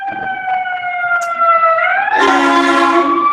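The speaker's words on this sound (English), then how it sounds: "Can I hear the siren?" A wailing emergency siren outside, holding a steady tone then jumping to a louder, higher wail, fairly close.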